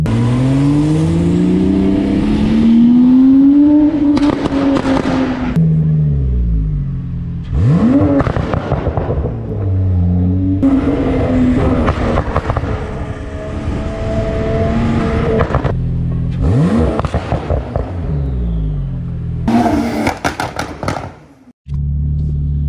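A Porsche 911 Turbo S accelerates hard in several loud, close bursts, the engine note climbing through the gears with brief lifts between pulls and a sudden cut at the very end.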